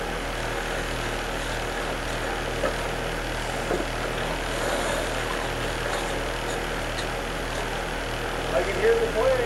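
An airplane drones overhead as a steady, moderately loud rumble beneath ongoing outdoor background noise, with faint voices mixed in.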